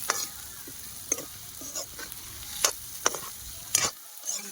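Turmeric, chili powder and salt stirred with a spoon in a pan of raw banana curry over a desi stove, with sharp scraping strokes at irregular intervals above a low, steady sizzle.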